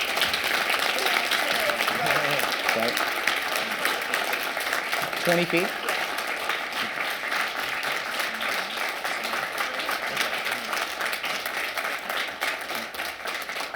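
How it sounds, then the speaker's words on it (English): An audience at an MLK celebration breaks into steady, sustained applause for a guest, with dense clapping filling the room from start to finish and a few brief words spoken over it. "Let's all give him a great round of applause here."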